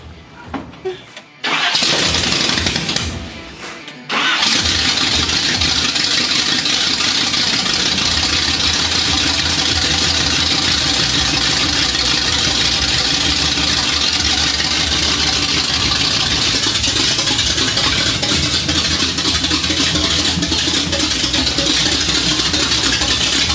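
An old truck with open headers cranks briefly, stumbles, then catches and settles into a loud, steady, rough idle that drones on for the rest of the time, with voices faintly underneath.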